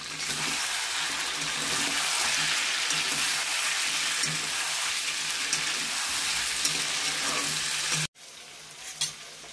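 Vegetable curry frying and sizzling in a pan on a home kitchen stove, a steady dense crackle that runs loudly for about eight seconds before cutting off abruptly, leaving a quieter stretch with faint clatter.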